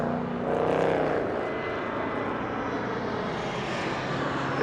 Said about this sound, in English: Oh, we have Alaskan Airlines coming in